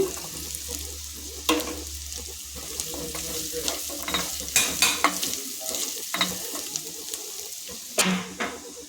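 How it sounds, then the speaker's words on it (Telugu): Jackfruit seeds sizzle in masala in a hot pan while a spoon scrapes and stirs them, with clattering knocks at intervals; close and moderately loud, no talking. "వేగిపోయిన మసాలా. ఇప్పుడు పనస గింజలు వేసేసుకుందాం"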